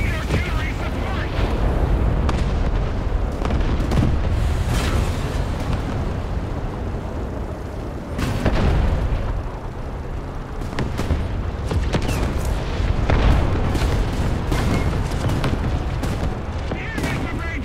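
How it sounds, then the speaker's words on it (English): Artillery fire in the video game Generals, loud booms and crackling blasts rolling almost continuously over a dense battle din, with a voice talking at times. "artillery is on the position"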